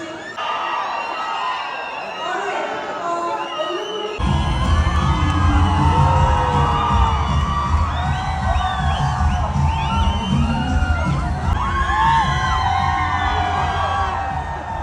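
A large crowd cheers and shouts continuously at a film promotion event in Dubai, loud and sustained, with a quieter stretch at first before the noise swells.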